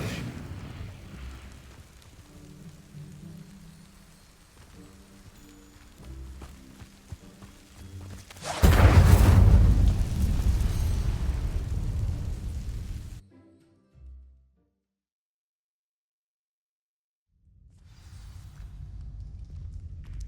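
In the Hogwarts Legacy video game, the Incendio fire spell sets dry vines alight with a sudden loud roaring whoosh of flame that burns steadily for a few seconds, then cuts off to near silence before ambient game sound returns.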